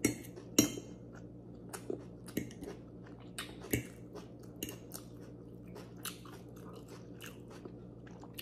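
Close-up eating during a Filipino mukbang of ribeye steak, fried rice and red onion pickles, with repeated crunchy bites and chewing, occasional cutlery clinks, and no talking.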